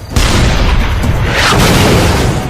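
A deep, loud boom from a tank gun firing on a T-34, one heavy blast that rolls on in a long rumbling tail.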